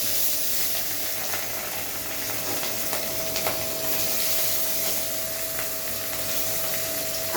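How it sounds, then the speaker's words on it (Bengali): Small fish frying in hot oil in a pan give off a steady, even sizzle that holds at constant strength throughout, with no voices over it. "আমি এখন মাছগুলো একটা একটা করে তেলে দিয়ে দিই।"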